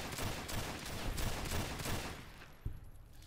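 Rapid gunfire aimed at a soldier ant in the game Fallout: New Vegas, a dense burst of repeated shots over about two seconds followed by a single sharper crack, with no speech.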